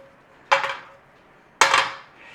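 A pan is brought out and set down in a kitchen while preparing an Irish boxty potato pancake breakfast, giving two sharp metallic clatters about a second apart, close and fairly loud, with no one speaking.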